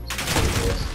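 A short, close burst of rapid gunfire from a Modern Warfare Search and Destroy match, a dense crackling volley under a faint voice.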